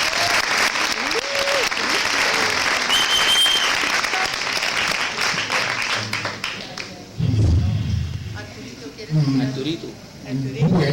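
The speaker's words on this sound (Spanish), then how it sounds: "Un aplauso, por favor." An audience at a theatre festival in Bogotá breaks into loud applause that fills the first half, then thins out and gives way to a voice over a few scattered claps.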